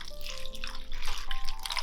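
Marinade pours over meat for a shashlik preparation outdoors in -53°C cold, a close, continuous splashing liquid flow with drippy gurgles, no talking.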